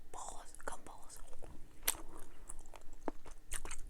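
Close, wet chewing of watermelon and strawberry bubble gum, with smacking and crunching bites, while soft whispered speech continues over it.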